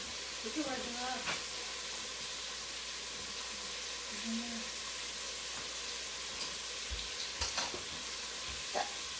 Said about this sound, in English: while the bacon cooks